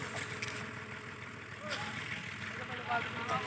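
A tractor-driven sugarcane crusher runs beside a cane field at a jaggery-making site, its engine a steady, close, low drone with someone talking over it.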